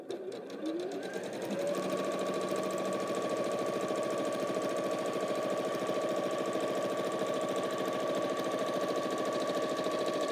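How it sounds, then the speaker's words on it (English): A sewing machine stitches fabric while making quilt half-square triangles, a fast, steady mechanical whir with a constant pitch that runs close up and without a break, and no one talks over it. "letting the sewing machine do its business,"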